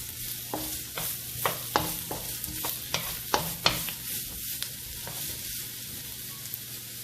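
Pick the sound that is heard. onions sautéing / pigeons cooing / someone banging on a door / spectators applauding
onions sautéing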